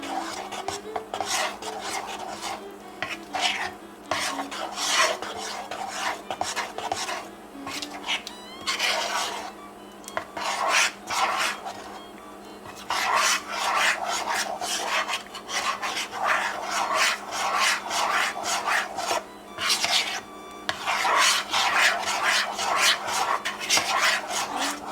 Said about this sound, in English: I'm just gonna mix this around and get all of the ingredients incorporated together.